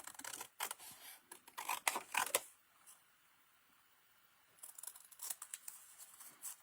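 Scissors snip through paper for an origami card, a quick run of crisp close cuts, then a quiet pause before another cluster of snips and paper rustles.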